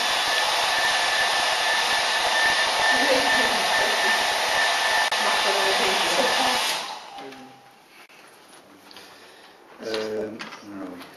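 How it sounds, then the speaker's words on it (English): A hair dryer blows on a painting with a loud, steady whoosh at close range for about seven seconds, then switches off. Afterward someone speaks quietly. "I'm going to need to just blow dry that so I can put that in one"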